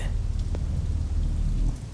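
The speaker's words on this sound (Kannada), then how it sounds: "ಆಚೆ ನೋಡಿದ್ರೆ ಅಷ್ಟೊಂದು ಮಳೆ ಬರ್ತಾ ಇದೆ" Steady heavy rain pours down with a low rumbling background, continuous and fairly loud.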